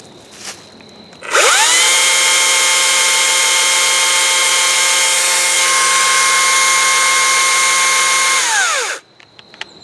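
Makita XCU03 36V battery chainsaw spins up sharply, runs at a steady high-pitched electric whine for about eight seconds close by, then winds down to quiet.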